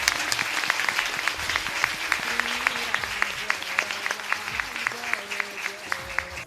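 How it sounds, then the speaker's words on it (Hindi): Loud applause rises from the audience at a Ramayana quiz competition after a correct answer, a sustained wash of clapping that holds steady with a few sharper individual claps standing out, and voices underneath. "सटीक उत्तर के लिए जोरदार ताली"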